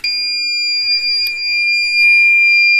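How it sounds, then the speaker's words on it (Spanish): An electronic buzzer blares at full volume, a piercing steady high tone sustained throughout, with faint faint clicks and handling noise beneath. "Esto ahora mismo se supone que es el máximo que da este zumbador"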